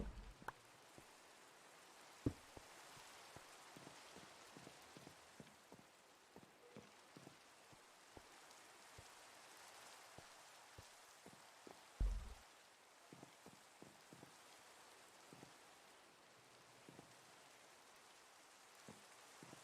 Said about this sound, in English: I don't mind the sound of the rain